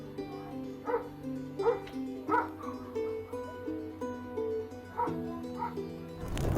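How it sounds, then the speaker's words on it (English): Two dogs bark near a laundry area as they charge at an intruder: a run of sharp, loud barks and yips arrives every second or so over a low background hum, pausing briefly before one last burst. "out of nowhere, 2 dogs come charging around the corner like they've been waiting for this moment their whole lives"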